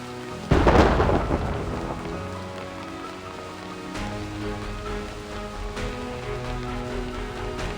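Video game thunderstorm on a seashore: a loud close thunderclap breaks early and rolls away, then steady rain patters on through the rest, with softer rumbles returning later.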